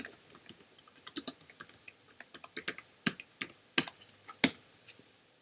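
Keys clatter on a computer keyboard in uneven bursts of rapid taps, close and crisp, as a package install command for Postgres is entered on a Mac; no one speaks.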